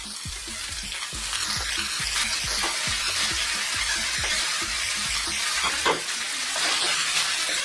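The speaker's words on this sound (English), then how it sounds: "Give that a mix, and on a high heat, let's throw this around in our pan for about 3 to 4 minutes" Onions, bacon, black pepper and garlic fry hard over high heat in a wok, a loud steady sizzle with rhythmic scraping and tossing clatter throughout, no voices.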